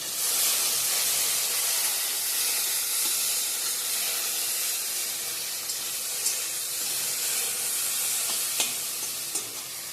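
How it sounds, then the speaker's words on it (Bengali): Paneer frying in a pan, a loud continuous hissing sizzle close up with a few light clicks of stirring near the end. "এদিকে পনিরটা ভেজে রাখছি"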